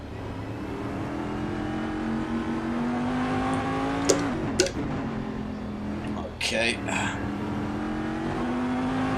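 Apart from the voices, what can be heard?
race car engine revving in USCC mod racing video game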